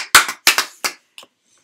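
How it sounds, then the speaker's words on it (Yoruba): Hands clap sharply, close and loud, in a quick irregular burst of five or six claps with a faint final one, then silence. "Ẹ pàtẹ́wọ́ fúnra yín"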